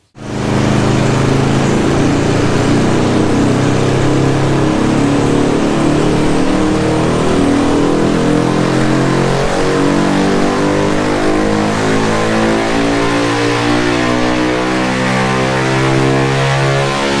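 A Honda 143cc motorcycle engine, the same unit as in the Grom, revs hard on a dyno, a loud continuous drone with harmonics climbing steadily in pitch through a long pull, with no talking over it.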